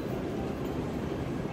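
Riding aboard a Shinkansen bullet train bound for Shin-Osaka, a steady loud interior rumble and rolling rail noise fills the cabin, continuous and without talk.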